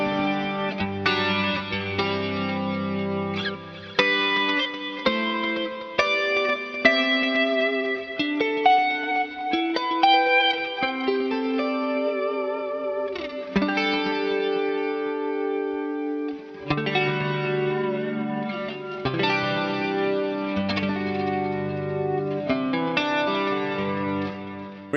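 Electric guitar run through a heavily clamping compressor set to heavy boosting, playing sustained chords and fast melodic runs with a thick, effected, distorted tone, loud and continuous throughout.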